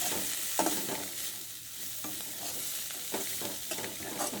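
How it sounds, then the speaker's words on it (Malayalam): Bitter gourd thoran being stirred in a pan: a steady sizzle with a handful of scraping stirs at irregular intervals, close and fairly quiet, no voices. "നന്നായിട്ട് ഇളക്കാം."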